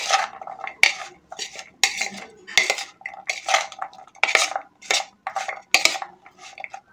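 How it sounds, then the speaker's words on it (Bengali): Peanuts being mixed with spices in a bowl: close, rhythmic scraping and clinking of a utensil against the bowl in quick repeated strokes, with no talk. "এইভাবে কিন্তু খুব ভালো করে মশলাটা একটু বাদামের সঙ্গে মিশিয়ে নিতে হবে।"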